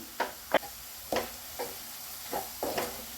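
A spoon stirs cumin and coriander powder around a pan, giving about six distinct scraping knocks spaced irregularly over a soft background hiss, close and moderately quiet with no speech.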